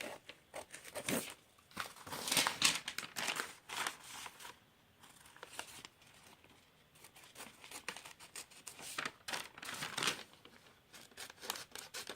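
Scissors cutting out paper sewing pattern pieces for a raglan top, with soft snips, paper rustling and crinkling in uneven bursts, close but quiet, no speech.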